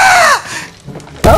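A teammate lets out two loud, shrill screams during an Apex Legends match, separated by a brief pause with muffled game noise.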